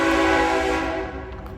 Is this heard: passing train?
yes